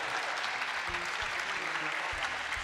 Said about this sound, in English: let's once again give a round of applause to all these wonderful kids that we have behind us